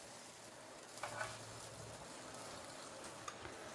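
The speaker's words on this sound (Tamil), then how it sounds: "நெய் சூடானதும் இந்த பராத்தாவை இதில் போட்டுடலாம்." A cheese paratha frying in ghee on a hot tawa over a slow flame gives a steady, close crackling sizzle, with a couple of brief soft clicks and no talk.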